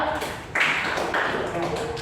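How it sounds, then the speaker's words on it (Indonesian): Students in an Indonesian classroom clap for a classmate, scattered light hand claps and taps with a teacher's voice over them. "tepuk tangan buat Indra"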